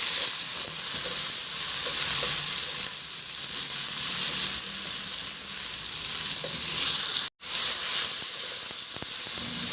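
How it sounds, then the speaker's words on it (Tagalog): Onion and tomato frying in a pan as they are stirred, giving a loud, continuous sizzle and hiss with faint scraping, broken by one brief cut, with no voices. "Ihalo lang hanggang sa maluto yung kamatis."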